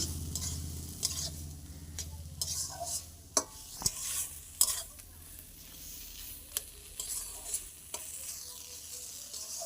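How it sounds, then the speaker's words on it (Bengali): Grated coconut stirred into a frying taro stem dish in a pan, with quiet sizzling beneath a series of sharp spoon scrapes and clinks against the pan at an uneven rhythm, no talking. "এবারে দিয়ে দিচ্ছি একটু কুড়িয়ে রাখা নারকেল, দিয়ে আবারও নাড়িয়ে নিচ্ছি।"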